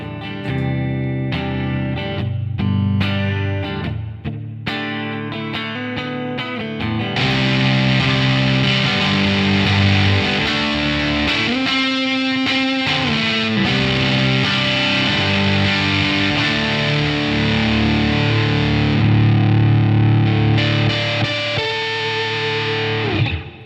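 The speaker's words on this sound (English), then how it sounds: "Last in line here, we have the Union Tube and Transistor More." Electric guitar played through a Union Tube and Transistor More boost pedal on an HX Stomp pedalboard, with distorted, driving chords and riffs, plus single-note runs, sounding loud and continuous for over twenty seconds.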